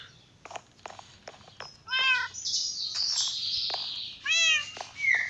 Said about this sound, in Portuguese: tem um gato miando aqui